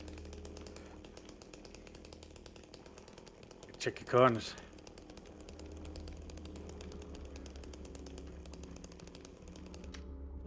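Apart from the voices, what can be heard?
chainsaw running in the video game Silent Hill 2 Remake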